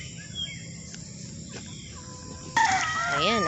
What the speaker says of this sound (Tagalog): Ba't parang may manok na parang nasasaktan?